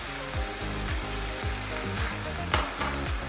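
Ground meat for a shepherd's pie sizzling and frying steadily in a pan, with a dense continuous crackle and occasional louder scraping stirs, close by and alone without speech.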